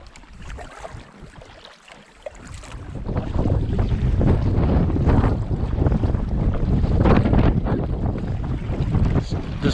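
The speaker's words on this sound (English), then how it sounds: "This wind just started all of a sudden" Wind gusting across a canyon lake while paddling a packraft, harsh buffeting microphone rumble that rises and stays loud and constant, with watery splashes beneath.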